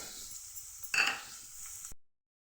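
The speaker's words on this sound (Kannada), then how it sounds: "ಸ್ವಲ್ಪ ಎಣ್ಣೆಯಲ್ಲಿ ಸ್ವಲ್ಪ ಹೀಗೆ ಬೇಯಿಸ್ಕೊಬೇಕು ಚೆನ್ನಾಗಿ" Onion, carrot, coconut, coriander and dried red chillies frying in a little oil in a pan for rava idli, a faint steady sizzle with one brief scraping stir, cut off abruptly after two seconds.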